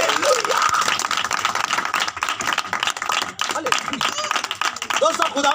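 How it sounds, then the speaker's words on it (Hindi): A church congregation claps loudly and steadily together at a worship service, a dense continuous patter of many hands with voices and shouts mixed in throughout. "सो मैं चाहता हूं एक बार दिल से जोरदार तालियां बजाइए"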